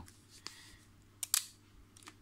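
A Yashica Electro 35 GSN film camera fires its shutter at a slow speed, giving a few sharp, close mechanical clicks, the loudest a quick double snap midway, in an otherwise quiet room.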